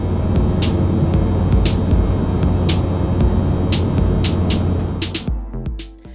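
An Air North airliner cruises from Kununurra toward Darwin, its steady, dense cabin roar holding loud and unbroken, with a few faint clicks on top before the noise drops away sharply near the end.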